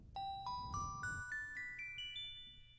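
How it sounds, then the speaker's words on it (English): Bell voice on an Estey electronic organ plays a rising run of about nine chime-like notes, evenly spaced and ringing with long decays, faint against a low background hum. "If I wanted to go back to those bells"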